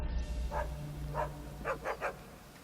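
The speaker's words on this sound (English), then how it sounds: "this dog will see me, and he will start barking like a motherfucker" A guard dog in Assassin's Creed Chronicles: China barks about five times, faint and somewhat distant, in short spaced bursts with the last three coming quickly together, over quiet game ambience.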